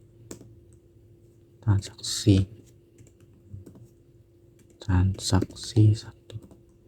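Two short bursts of typing on a computer keyboard, close rapid key clicks with quiet pauses between, while a voice talks softly.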